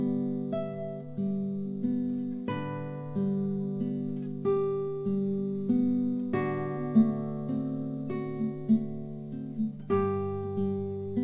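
Solo acoustic guitar picks an anonymous waltz, a lilting three-beat melody over bass notes and open strings, moderately quiet and unaccompanied, with no voices.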